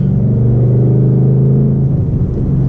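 A 2012 Ford Mustang Boss 302 V8 holds a loud, steady low rumble while driving, with a faint rise in engine pitch near the end and no voices.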